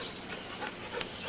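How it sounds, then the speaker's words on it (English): A dog near a cemetery whimpers in a few soft, brief yelps that rise over quiet outdoor background noise. "Got some company. A couple of Maurice's dogs."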